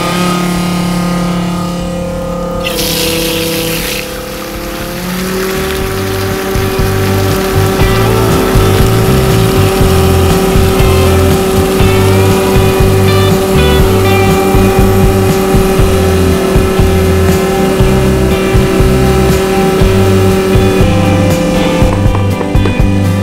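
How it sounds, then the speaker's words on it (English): A diesel transfer pump drones steadily while filling a bucket through a flow meter, loud and close with a sustained motor hum and churning liquid, starting up after a short quieter stretch, no voices. "Step two, turn on the pump"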